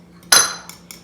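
Salt going into challah dough in a bowl, heard as one sharp close clink of a utensil against the bowl, followed by a fading rattle and two light taps.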